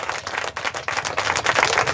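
A church congregation claps and cheers in acclamation of Jesus, with dense, steady applause filling the space at close range and no break from start to finish.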